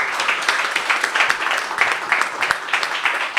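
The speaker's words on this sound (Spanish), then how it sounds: "Un aplauso para ese 11 ideal" Audience applause on a Spanish television program, as a studio crowd claps for a named ideal eleven team: dense, steady clapping from many hands running the whole stretch at a fairly loud level.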